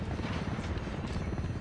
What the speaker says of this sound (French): Un hélico, tous à terre.